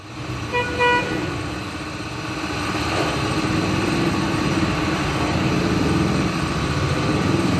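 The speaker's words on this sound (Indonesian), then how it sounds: "nanti akan di test drive untuk dilakukan pengecekan performa mesinnya seperti apa" A 1994 Honda Astrea Grand motorcycle engine runs steadily at a high, buzzing idle during a test drive, close by and continuous, with a few faint beeps near the start.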